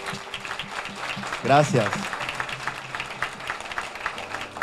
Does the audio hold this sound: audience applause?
yes